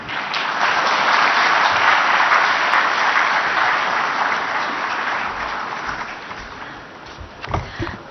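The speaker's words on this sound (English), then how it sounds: "once again, a huge round of applause for everyone on the dais" Audience at an international irrigation and drainage conference applauds the dignitaries on the dais, a broad sustained wave of clapping that gradually thins out near the end.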